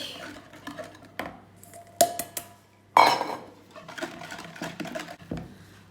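A spoon stirs galette batter with almond powder in a bowl, giving irregular scraping and a few sharp clinks and knocks against the bowl, close and fairly loud.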